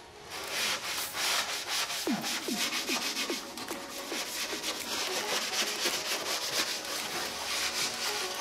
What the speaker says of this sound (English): I used a Scotch-Brite pad and scuffed all of that up.